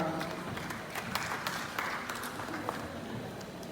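Audience of parents, friends and family clapping at a 2021 skills-centre graduation ceremony, a steady moderate patter of many hands with scattered louder claps, continuous for several seconds.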